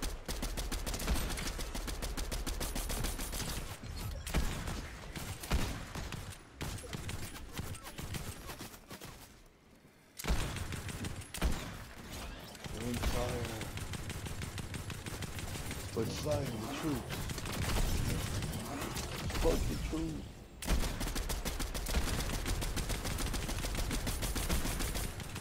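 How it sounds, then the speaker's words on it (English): Gunfire in Fortnite Zero Build during a firefight: repeated bursts of shots under near-constant excited talk from players, with brief quieter gaps. "They're getting shot at by somebody else."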